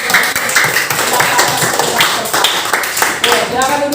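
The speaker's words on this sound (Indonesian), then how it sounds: "Kita berikan tepuk tangan buat Zahra yang sudah." A classroom applauds a student, with a burst of close, steady hand clapping from several people, mixed with children's voices.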